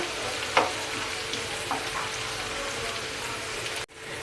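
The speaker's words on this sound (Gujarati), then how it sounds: "ડુંગળીને ગોલ્ડન બ્રાઉન થાય ત્યાં સુધી આપણે તેલમાં સતળાવા દેશું" Onions sautéing in hot oil for street-style tava bhaji, a steady loud close sizzle with a couple of stirring scrapes, cutting off abruptly near the end.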